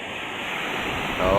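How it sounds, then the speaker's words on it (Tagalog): Strong typhoon wind roars over the sea near moored boats, a steady broadband rush with surf that swells louder toward the end. "Lakas ng hangin."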